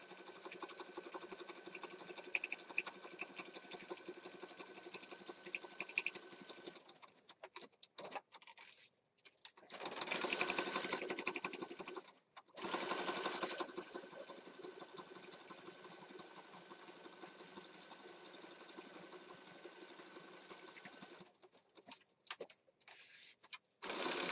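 A sewing machine stitches around a junk journal page, whirring steadily in bursts with brief pauses between runs, fairly quiet and close.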